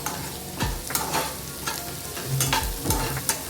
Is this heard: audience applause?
no